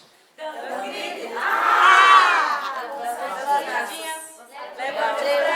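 A group joins in a shout during a storytelling training class, a loud mixed burst of voices swelling near the start and continuing as overlapping crowd chatter and calls.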